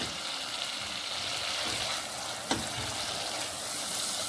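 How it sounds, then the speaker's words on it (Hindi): Tomato masala for a spicy potato and egg curry sizzles in a pan, a continuous close frying hiss with occasional stirring and a single sharp clink midway. "तो अब हम इसे भूनें हैं ताकि ये अच्छा सा मसाला तैयार हो जाए।"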